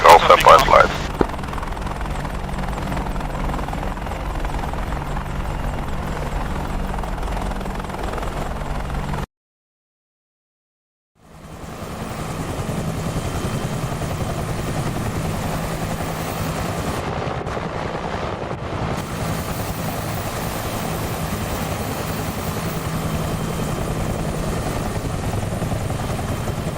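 A video-game helicopter takes off with a loud, steady rotor drone that cuts to silence for about two seconds, then resumes and holds evenly to the end.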